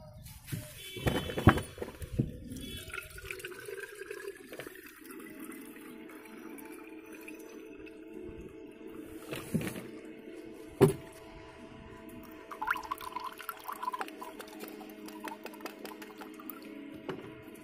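Dark banana peel fertilizer water is strained, with irregular splashing and pouring, faint clinks and handling noises, and a hollow trickle that comes and goes at close range.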